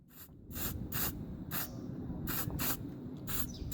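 Spray paint hisses through a straw nozzle onto a Warhammer 40k model base in a string of short, sharp bursts, roughly seven, close and loud, with brief pauses between them and no talking.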